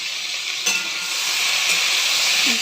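Vegetables frying in a pan with black cumin and green chilli over medium-high heat, a steady close sizzle with a couple of brief stirring knocks.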